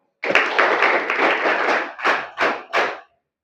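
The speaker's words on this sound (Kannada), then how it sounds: "ನಮ್ಮ ತಂದೆ ತಾಯಿಗೆ ಒಂದು ಜೋರು ಚಪ್ಪಾಳೆ ಬರಬೇಕು" A crowd at a Morarji Desai residential school breaks into loud applause for parents, a dense burst of clapping that ends in three separate rhythmic claps.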